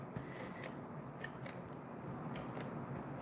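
Several quick, crisp snips of scissors cutting a piece of decorative foil for a card, close and quiet, spaced irregularly over a few seconds.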